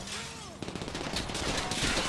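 Rapid gunfire in the video game GTA V, a dense burst of repeated shots that builds and stays loud, with a player shouting briefly just before.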